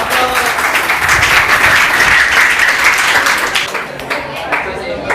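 A crowd gives sustained, lively applause at a class 12 prize distribution. It is loud and steady and thins out near the end. Some voices mix in under the clapping.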